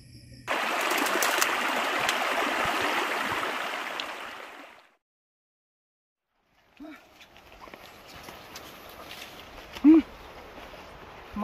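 Steady broadband rush of a flowing creek where water is being fetched in Eastern Samar, loud and continuous for about four seconds before cutting out, followed by faint rustling and a couple of brief knocks.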